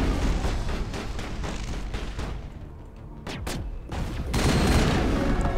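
Rapid bursts of gunfire from the video game Mass Effect, dense overlapping shots with a brief lull midway before the firing resumes loud and sustained.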